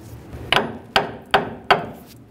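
A hammer taps the upper control arm of a 1998-2011 Ford Ranger to free the ball joint stud: four sharp, close metallic strikes at an even pace, each ringing briefly.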